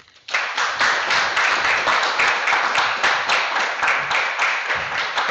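Audience applause fills a National Honor Society induction ceremony, steady dense clapping from a crowd that begins abruptly and carries on evenly throughout without voices.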